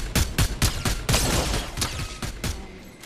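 Gunfire in the video game Fortnite: about a dozen sharp, loud shots in quick, fairly regular succession, some bunched closer together, with echoing tails and no voices.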